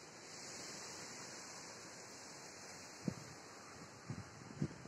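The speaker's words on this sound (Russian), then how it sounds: "Ураганный ветер" Strong storm wind in Crimea under dark clouds moving in from the south roars as a steady, broad rush of noise, with a few short low thumps from gusts near the end.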